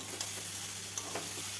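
Spice paste with green chillies frying in a pan while being stirred, a soft continuous sizzle with a few faint scraping strokes over a steady low hum.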